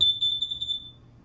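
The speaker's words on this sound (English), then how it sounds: "Same thing with your smoke alarm." An RV smoke alarm is tested and gives one short, shrill electronic chirp that rings for under a second and then fades. It is close and clear against a low background hum.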